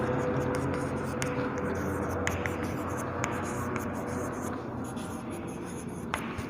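Marker or pen writing min term values on a board, a faint continuous scratching with small taps as the digits are written, steady and close against a soft background hiss.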